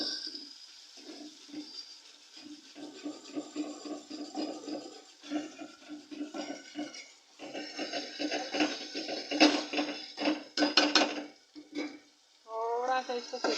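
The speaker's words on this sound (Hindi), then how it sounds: "मैंने जीरा डाल दिया, अभी लहसुन और मिर्ची और अदरक का पेस्ट डालती हूँ।" Garlic, chili and ginger paste sizzles as it hits cumin in a hot pan while cooking a jimikand (elephant foot yam) curry, with close, steady frying crackle and stirring scrapes that swell in bursts toward the end.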